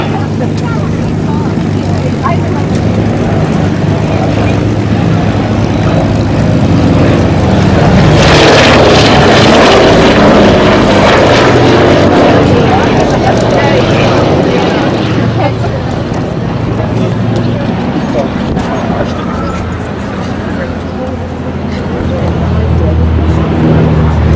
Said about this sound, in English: Wonderful sound of 8 Wright Cyclones going by